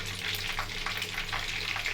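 Constant crackling sizzle of tilapia frying in hot oil, with a low steady hum underneath and bursts of spattering throughout.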